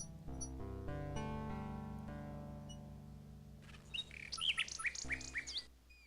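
Game birds in King's Quest VI chirp and warble in a quick run of bright, twittering calls over a layered musical soundtrack, loud and close near the end.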